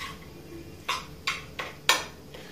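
Mango pieces being stirred with sugar in a metal pan, four distinct clinks of a utensil against the pan spaced about a third of a second apart over a quiet background.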